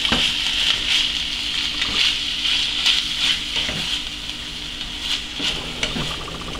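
McCormick sloppy joe skillet sauce bubbles as it comes to a boil in a skillet. A continuous close sizzle carries sharper spattering bursts and occasional stirring scrapes every second or so.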